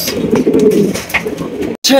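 A pair of bright red Lahori pigeons coo in low, rolling murmurs that continue close by for about two seconds, with a brief gap near the end.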